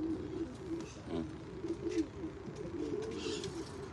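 A pigeon coos repeatedly at close range, a steady series of low throaty rolling calls in an uneven rhythm over faint background noise.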